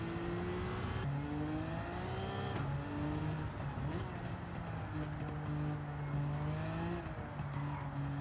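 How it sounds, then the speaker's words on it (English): A Nissan Skyline GT-R Nismo racing in a video game, its engine droning and rising through gear changes with whistling turbo and blow-off sounds, a steady in-car roar with abrupt shifts. "Those turbo noises."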